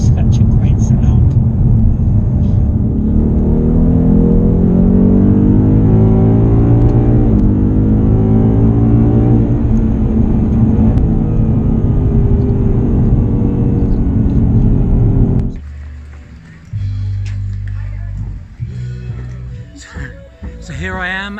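A new Ford Mustang's engine roars loud and close as it drops a gear and accelerates, pitch climbing in repeated rising sweeps, then cuts to a quieter idling rumble near the end.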